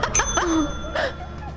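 A bell in a German-language video game, rung repeatedly as a Russian-roulette-style gamble, gives bright ringing dings that fade out, a second ring following about a second after the first.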